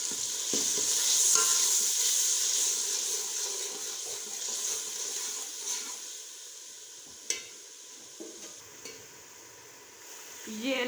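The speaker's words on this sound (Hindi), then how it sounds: "ये हल्का सा पानी डाल के हम मसाले को अच्छी तरह से भूनेंगे।" Ground spices in a pan with a splash of water for a chicken feet dish: red chilli, cumin, chicken powder, salt, turmeric and dried coriander. A steady close sizzle runs throughout, with occasional stirring clinks and scrapes.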